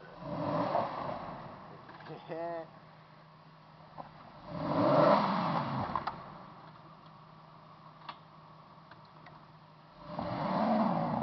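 A Nissan Xterra stuck in deep snow, its engine revving in three surging bursts separated by quieter idling, with people talking in between.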